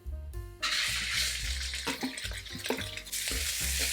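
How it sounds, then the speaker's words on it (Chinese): Minced pork fries in hot oil in a heated pan for a Taiwanese home dish, with a loud, steady sizzle broken by scraping stirs and clanks. "先将我们的绞肉放下来，"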